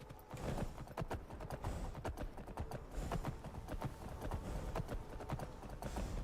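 Horse hooves clip-clop in a steady, quick rhythm while riding through modded Skyrim, close and continuous throughout with no talking.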